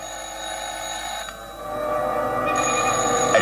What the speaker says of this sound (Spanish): el timbre del teléfono lo hace reaccionar